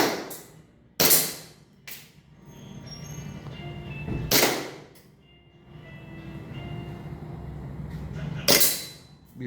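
Pistol shots at an indoor shooting range cafe, three sharp loud cracks spaced a few seconds apart over a quiet room background.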